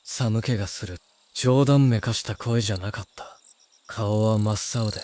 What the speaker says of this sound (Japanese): 辺りに響くのは、虫の声と、 カエルの鳴き声。